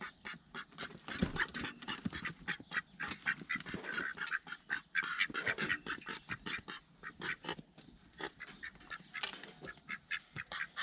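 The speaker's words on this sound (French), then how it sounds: "Là, il s'est enfermé avec un autre canard" Ducks quack over and over in rapid, overlapping bursts, close by and fairly loud, with no pause in the chatter.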